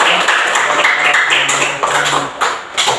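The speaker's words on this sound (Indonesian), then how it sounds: "Kasih tepuk tangan dulu untuk" A classroom of pupils claps for a group's discussion results, a dense, steady patter of many hands lasting a few seconds, with a little talk mixed in.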